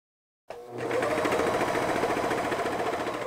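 A sewing machine runs steadily, topstitching the cotton spandex ribbing of a hoodie hem, starting abruptly after a brief silence and then holding a loud, continuous mechanical whir with rapid needle rhythm throughout.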